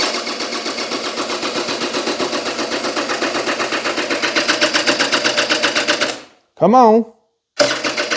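A 1986 Honda Spree two-stroke scooter cranks over and over without firing, a fast steady mechanical chatter lasting about six seconds, then a pause with a brief spoken word and a short burst of cranking again.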